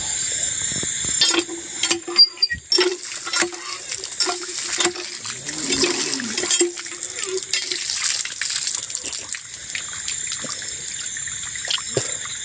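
Water trickles and splashes intermittently as someone washes hands and feet outdoors at night in a village, close by, with small clatters and drips between pours.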